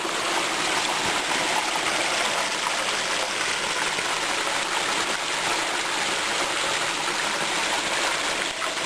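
A hill stream with waterfalls rushes steadily, a dense, even hiss of flowing water close by that never lets up, with no voices.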